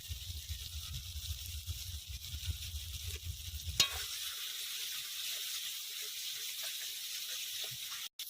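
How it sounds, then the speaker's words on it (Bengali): A spice paste of ground poppy seed and melon seed with salt and turmeric sautés in a pan for a potol malai curry, giving a steady close sizzle with soft stirring, a low bubbling layer early on, then an even hiss. "মশলাটা কষানো হয়ে গেছে"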